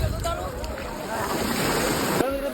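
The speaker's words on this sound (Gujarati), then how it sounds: "જો મોજા કેવા" Sea waves wash onto a beach in a steady, broad rush, with wind buffeting the microphone throughout and a brief surge near the end.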